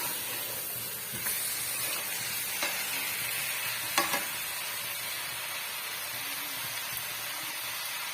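Masala being stirred into chicken for biryani in a pot, a soft continuous sizzle and hiss with a few scraping stirs of a spoon, fairly quiet and close, no voices.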